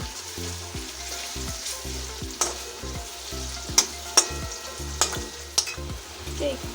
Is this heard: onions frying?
yes